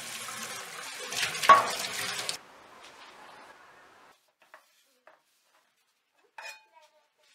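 Water runs over a Misen carbon steel pan while it is scrubbed, a clattery rinsing rush for about two seconds that fades into faint trickling and a few sparse light clinks and taps.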